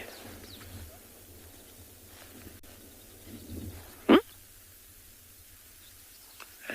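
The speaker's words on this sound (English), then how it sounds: "what the meerkat is giving, the alarm call it's giving." A meerkat at Tswalu in the Kalahari gives a single sharp, loud alarm call at sunrise, standing out abruptly against quiet, faint outdoor ambience.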